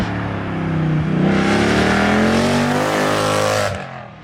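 A Mercedes C63 AMG fitted with an Armytrix exhaust revs hard, one loud sustained blast that climbs in pitch and holds before cutting off abruptly, very close and dominating.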